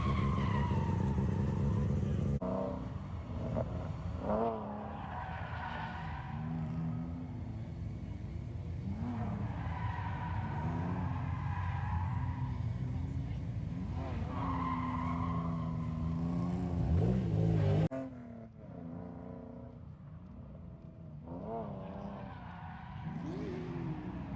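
An LS V8-swapped Nissan S14 drifting in the distance, its engine revving hard while tires squeal continuously, cut off abruptly near the end.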